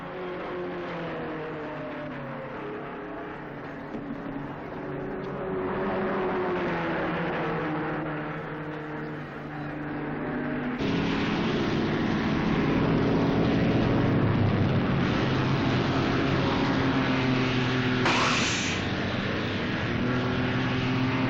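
Race cars speeding around a track in an old racing film, a loud continuous engine drone with shifting pitch that grows louder and denser midway, with a brief high burst near the end.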